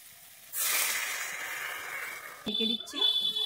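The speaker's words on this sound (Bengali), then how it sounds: "এবারে আমি জল দিয়ে দিচ্ছি" Water hits a hot pan for a rohu fish and potato curry, giving a hissing sizzle that starts abruptly and slowly fades over about two seconds, followed by clattering and stirring sounds.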